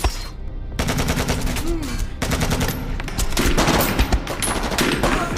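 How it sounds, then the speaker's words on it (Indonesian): A gunfight in a film soundtrack, with loud rapid bursts of automatic gunfire and single shots packed densely together and barely pausing throughout. "terjadi baku tembak antara Sanya yang menghentikan Gudermes dan anak buahnya yang hendak kabur"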